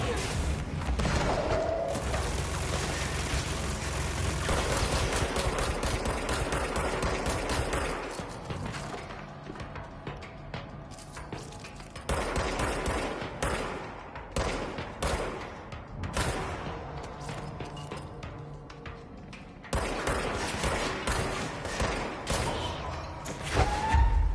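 Machine gun fire from a chain gunner enemy in a video game, dense sustained bursts with thuds and impacts, loud and continuous with brief lulls, mixed with game sound.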